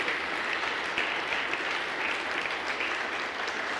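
A church congregation claps loudly and steadily in worship, a dense, sustained wash of applause filling the space with no talk over it.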